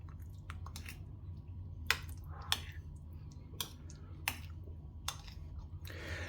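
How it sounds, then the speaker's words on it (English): Vegetables being stirred into a cottage pie mixture of tinned beef steak and onion, heard as soft wet squishes and a few sharp spoon clicks at irregular intervals over a low steady hum. "Let's give it a bit of a stir in to get those veggies mixed in."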